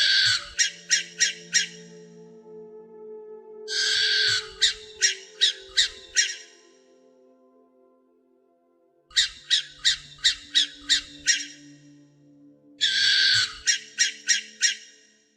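A barn owl perched on a tree branch at night, giving repeated bursts of rapid harsh squawking notes in four separate clusters of about five to seven pulses each, with quiet gaps between and no talking.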